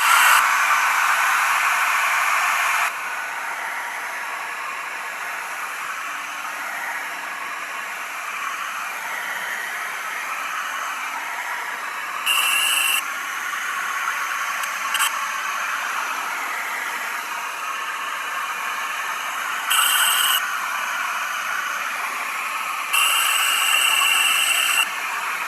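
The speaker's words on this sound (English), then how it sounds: "Give him a good blow dry." A hair dryer blows steadily on a gnome painting to dry its coats, a continuous airy whoosh that runs the whole time, a little louder at the start, with a few brief surges.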